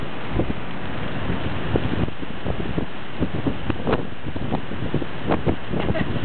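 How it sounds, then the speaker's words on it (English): Strong wind buffets the microphone on a beach, a constant rough low rumble with gusty thumps, while a dog plays nearby and people talk over it. "it's really windy"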